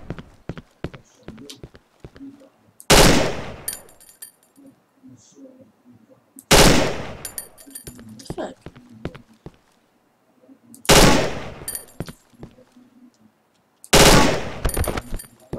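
Gunfire from a disliked gun in the horror game Cry of Fear: four loud, sharp blasts spaced a few seconds apart, with quieter clicks and rustles between them.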